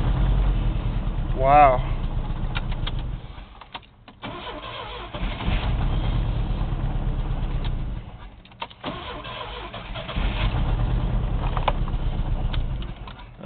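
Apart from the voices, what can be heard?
truck engine starter cranking, then engine idling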